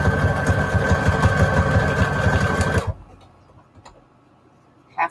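A sewing machine stitches paper ruffles onto index cards with a loud, fast, steady mechanical whir for about three seconds, then stops abruptly, leaving near silence and a faint click at the end.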